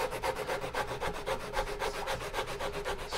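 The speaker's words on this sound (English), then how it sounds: "I prefer to make a little sanding block again, like this. And I go very lightly. I start with 80" A wooden paddle is hand-sanded with an 80-grit sanding block, giving a rapid, even back-and-forth rasping rub in a steady rhythm, close and moderately quiet with no talking.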